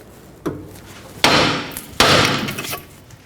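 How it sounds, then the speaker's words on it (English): A hammer strikes the steering knuckle of a 2006-12 Toyota RAV4 to loosen the tie rod end, giving three loud metallic bangs. The last two ring out briefly, close up. "I'm going to give the knuckle a hit right here, loosen up that tie rod end."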